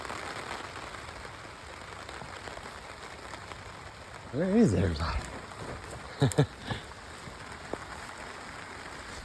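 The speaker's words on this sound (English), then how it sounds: "So it's raining." Rain patters steadily on a goat igloo and tarp in an outdoor goat pen, a soft continuous hiss throughout while a person speaks briefly and a few goat bleats break through midway.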